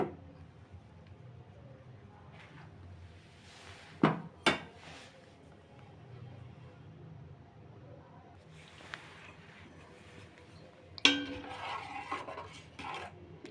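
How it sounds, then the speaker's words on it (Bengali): Kheer being stirred and mixed in a pot: faint scraping and soft spoon movement with a few sharp clinks of utensil against the pot, quiet and intermittent. "এবার একটু নেড়েচেড়ে মিশিয়ে নেব"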